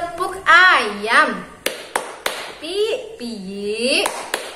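A few sharp, separate hand claps in an irregular children's clapping-game rhythm, interleaved with a voice imitating chicken sounds in a high, sing-song tone.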